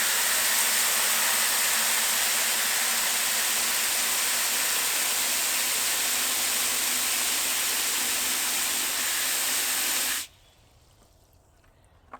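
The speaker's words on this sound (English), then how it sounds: "So we're going to put just a little bit of water." Water pours into a 5 gallon bucket for laundry as a loud, steady rushing hiss lasting about ten seconds. It then cuts off abruptly to near quiet, with no talking.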